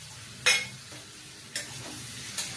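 Prawns frying in a pan with ginger and green chili, with a quiet continuous sizzle broken by three brief scraping stir sounds, the first strongest.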